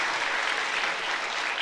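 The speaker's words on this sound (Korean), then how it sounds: "우리 박수로 한번 환영하겠습니다" Brief burst of steady applause from a church congregation welcoming a guest, a dense even clapping at moderate volume with no voices over it.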